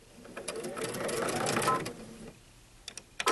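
A sewing machine stitching a seam with its lateral feed, running in a close, steady whirring burst for about two seconds, then stopping, followed by a few faint clicks.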